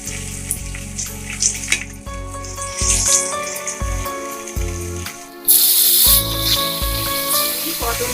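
Fish heads frying in hot oil for a Bengali patol ilish malai curry, a steady loud sizzle and spatter with brief clinks of utensils, rising to a harsher hiss partway through.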